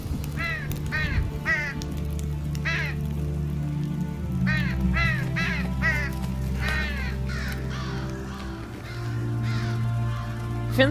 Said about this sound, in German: echt unheimlich, wenn Raben oder Krähen in so einem großen Krug auf einem Baum sitzen